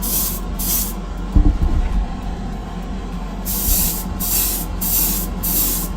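Airbrush spraying base coat onto a cracked Greek-style vase, short hissing bursts of spray, two at the start and a rhythmic series of four later, over a steady background hum with a brief knock in between.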